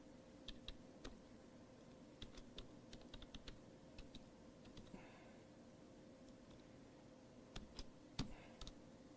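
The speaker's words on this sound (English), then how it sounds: "I was not typing my password correctly." Someone types a password on a computer keyboard, producing scattered quiet key clicks in short irregular bursts against a faint steady hum, close but low in level, with no talking.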